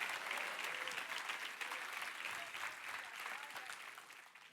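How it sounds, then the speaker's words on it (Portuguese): Church congregation applauding at an evening service, a steady wash of clapping at moderate distance that holds evenly before a sharp sound at the very end. "Se é para aplaudir, aplauda glorificando a Deus"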